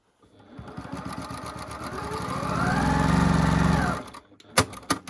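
A sewing machine stitching a quilt seam, running in a steady rapid whir that builds for about four seconds and then stops, followed by a few sharp clicks, close and clear with no talk.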